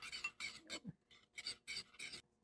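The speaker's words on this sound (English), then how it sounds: "now what I'm going to do is mix it in with the sugar" A spoon stirs and scrapes through sugar in a glass while a festive Yule cocktail is being made, heard as about seven short, gritty scraping strokes in a quick, uneven rhythm, close and fairly quiet.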